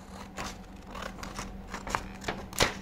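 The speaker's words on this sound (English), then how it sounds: "with the use of a scissor we are going to cut this" Scissors snip through paper during a children's pen-stand craft, giving a series of soft, close, irregular cuts that build to a sharper final snip, with no voices.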